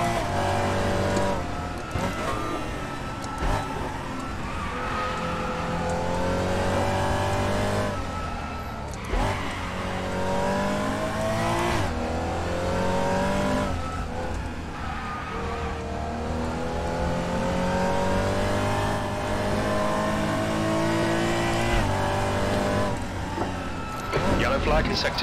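A GT4 race car in RaceRoom at Mid-Ohio drones loudly and continuously, rising and falling through gear changes and revs, with someone talking over the engine.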